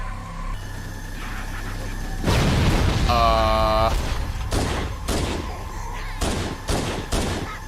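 Bursts of video game gunfire crack out in rapid volleys, some close and loud, others in short separated clusters, while someone talks over parts of it.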